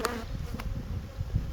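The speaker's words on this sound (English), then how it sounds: "They're not happy bees." Agitated bees from an overfull Layens hive, a dense close buzzing swarm droning steadily with brief sharper whines as individual insects pass near.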